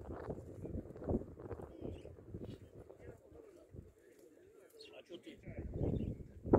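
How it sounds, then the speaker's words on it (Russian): Maikop pigeons coo at an outdoor bird market, their soft low calls mixed into steady chatter of people talking nearby, with light wind noise on the microphone. "Здесь представлены майкопские голуби."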